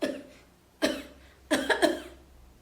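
An older woman coughs indoors in four separate bursts, the last two coming close together, each a sharp, fairly close hack that fades out.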